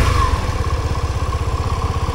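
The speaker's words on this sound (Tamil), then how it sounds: "இப்போ வண்டி நான் ஸ்டார்ட் பண்ணி காட்டுறேன்" A motorcycle engine runs close by with a steady, fast low chugging idle that stays even throughout, with no voices.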